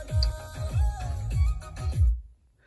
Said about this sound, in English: So this is the sound of the Volkswagen Tiguan music system.